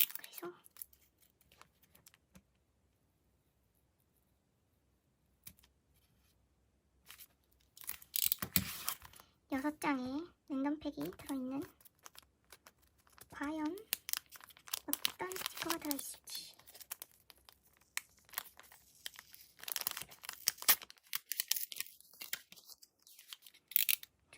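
Paper stickers from a random-pick pack being carefully peeled off their backing, giving bursts of crinkling, tearing rustle across the stretch, interleaved with a person talking close by.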